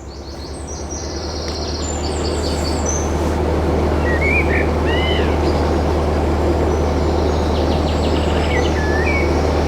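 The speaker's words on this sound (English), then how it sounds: "The bird noise and the quietness around here" Birds chirp and warble in scattered bursts over a steady low rumble, with a constant drone underneath throughout.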